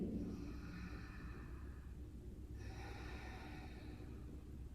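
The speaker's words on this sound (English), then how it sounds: "And here's pelvic floor breathing." Deep pelvic floor breathing, shown as two long, slow, audible breaths taken close up, each a drawn-out airy rush with a brief pause between them and no talking.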